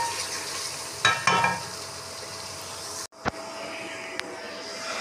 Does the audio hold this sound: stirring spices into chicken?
yes